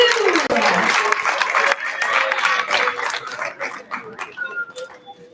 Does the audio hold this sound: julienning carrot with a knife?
no